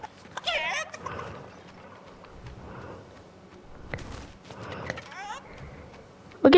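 Chicken in a video game making bursts of squawky clucking and gobbling calls, several spaced bursts near and fairly loud, with a person talking in between and game noises around.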